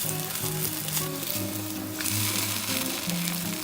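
French toast sizzles in a buttered pan right after being flipped, a steady close frying hiss with a few soft scrapes and bumps partway through.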